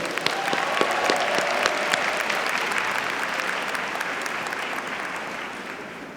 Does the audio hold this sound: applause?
yes